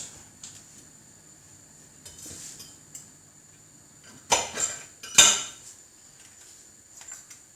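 Knife and fork working through soft, tender roast chicken on a plate, with light scrapes and clinks of cutlery on china and two sharper, louder cuts midway, close and otherwise quiet.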